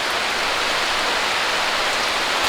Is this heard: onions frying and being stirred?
no